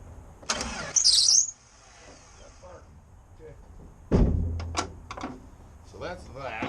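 A Jeep engine with a seized alternator is cranked over in short bursts, a loud churning start near the middle of the clip, with people talking nearby before and after.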